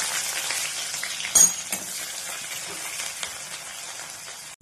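Onions hit hot oil and sizzle in a steady, close hiss with a brief sharper burst near the start, and the frying keeps crackling evenly throughout.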